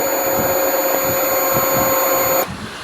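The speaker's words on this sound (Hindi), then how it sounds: "तो आप इजीली सुन सकते हैं कि पंप चालू हो रहा है" A Hero motorcycle's electric fuel pump whirs steadily with a close, even mechanical hum and a faint whine, then cuts off abruptly near the end.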